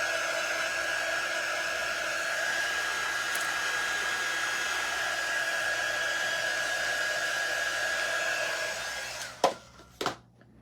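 A hair dryer blows steadily on a painted bird cage cutout with a constant whirring drone for about nine seconds, then switches off with a couple of clicks and bumps.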